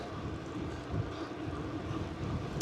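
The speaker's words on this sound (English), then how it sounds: "Oh, it's quite windy." Steady wind rushing and buffeting against the microphone while cycling uphill, a constant broadband roar with no voices.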